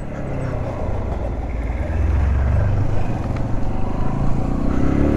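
A 125cc motorcycle engine drones steadily while riding on the road, its low rumble and wind noise building slightly louder partway through and holding continuous to the end, with no talk.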